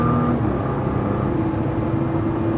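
A car accelerates on a race track, its engine a steady loud drone that rises slowly in pitch over a few seconds, with no one speaking.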